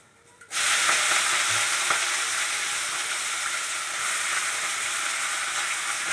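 Spinach greens dropped into a hot pan burst into loud, steady sizzling frying that continues unbroken with faint stirring scrapes, close up with no voices.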